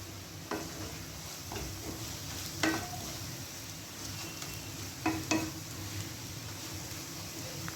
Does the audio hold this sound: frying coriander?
yes